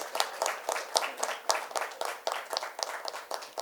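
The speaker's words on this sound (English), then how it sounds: "I want you to applaud them" An audience at a symposium applauds in a steady patter of hand claps, moderately distant and continuous over several seconds with no talking.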